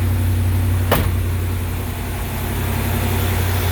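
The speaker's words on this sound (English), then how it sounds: "She's high idling." A 1978 Camaro engine running at a steady high idle, a loud continuous drone close by with one brief sharp click partway through.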